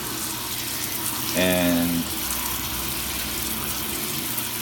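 Water draining from a bathtub with a continuous gurgling wash, and a short louder burst of sloshing partway through, close by, with a brief spoken word.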